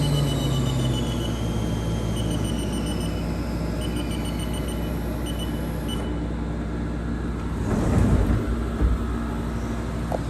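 The spindle of a Haas Super Mini Mill vertical machining center spins up to 10,000 RPM with a loud, steady, high-pitched whine and layered tonal hum. Near the end, a short burst of broadband noise sounds out.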